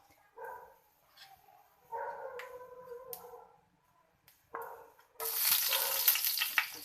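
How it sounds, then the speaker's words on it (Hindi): Cumin seeds frying in hot oil give a soft intermittent sizzle and stirring, then chopped garlic added to the pan brings a sudden loud, steady crackling sizzle. "ज़ीरा अपना कलर चेंज कर लेगा तो हम इसके अंदर डाल देंगे चॉप लहसुन।"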